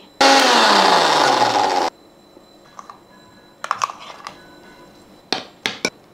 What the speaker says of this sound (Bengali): চাটনিটা এখন মিক্সচার মেশিনে পেস্ট করে নিচ্ছি।